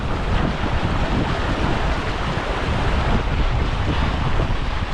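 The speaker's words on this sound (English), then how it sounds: "I've got to get past that little waterfall." Small waterfall rushing steadily nearby during a wild camping trek, a loud, continuous broadband roar of water with wind buffeting, no talking.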